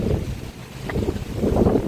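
Wind rushes and buffets against the microphone in low, rumbling gusts at Al Khor Park in summer, steady throughout with no speech.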